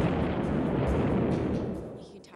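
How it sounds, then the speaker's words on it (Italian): The 30 mm seven-barrel rotary cannon of an A-10 Warthog fires a long, continuous roaring burst that fades at the end, heavy and rumbling, heard alone without voices. "Il suo stupefacente cannone da 30 mm a 7 canne è la bocca da fuoco più potente mai portata in cielo."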